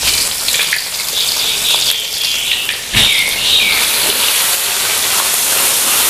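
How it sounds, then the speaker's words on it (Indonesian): Spice paste for braising chicken sizzles steadily in a hot pan, a continuous close hiss with bursts of crackle and a brief spatter near the middle, alone with no talk. "cara ungkep ayamnya ini bumbunya saya tumis dulu sampai kira-kira bumbunya ini harum"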